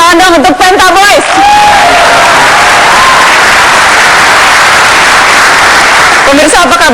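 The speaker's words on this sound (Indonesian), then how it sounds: "sekali lagi tepuk tangan dong untuk Penta Boys" A studio audience gives sustained applause for the group Penta Boys on a televised talk show, a dense, loud wash of clapping lasting several seconds between stretches of a host talking.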